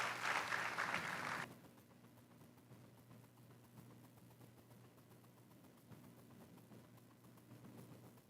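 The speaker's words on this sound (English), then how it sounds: "big round of applause for him as well" An audience at a public Board of Education session gives a sprinter a loud burst of applause lasting about a second and a half, which then drops away to a quiet room hum.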